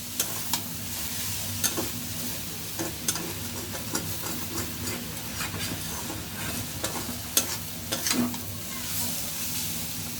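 Water lily stems and shrimp are stir-fried over raised heat, with a constant close sizzle and hiss broken by regular scraping clicks of a spatula against the pan.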